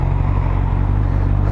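Steady low rumble of a Fiat Multipla car engine idling or cruising nearby, a continuous dense drone with no talk.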